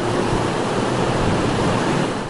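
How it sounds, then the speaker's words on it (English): Choppy surf pounds Easton's Beach in Newport as Hurricane Earl's winds pick up: a dense, continuous roar of breaking waves and wind, loud and unbroken throughout. "winds are picking up, making the surf a little choppier"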